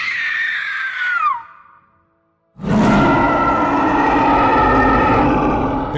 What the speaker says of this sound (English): King Kong roars after she screams for her life.